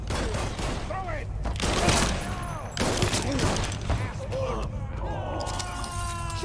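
Gunfire crackles in the Mafia 3 video game, with repeated bursts of shots over a dense, loud action soundscape and some game voices.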